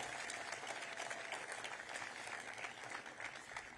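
A crowd at an outdoor statue unveiling for a softball coach claps steadily for the former players, a dense, even wash of applause heard at a slight distance with no voices.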